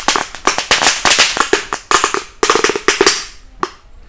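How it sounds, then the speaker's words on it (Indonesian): A rapid string of loud firecracker bangs pops in irregular bursts inside a motorcycle exhaust, sharp and close, thinning out toward the end. "selanjutnya kita nyumet mercon 2 telur dino di dalam knalpot."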